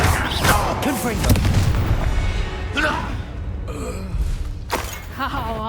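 In Hogwarts Legacy, Confringo spell blasts burst out in a busy combat scene as several booming, crackling explosions and thuds, mixed with shouted voices and grunts.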